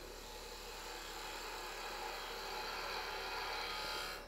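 A woodturning lathe spins at about 2,500 RPM while shaping a wooden incense burner, giving a steady, even whirring hiss with faint rubbing of the tool, no talking.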